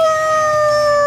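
In The Last of Us Part II, a character imitates a wolf's howl with a voice: one steady, sustained tonal wail, loud and close, heard alone.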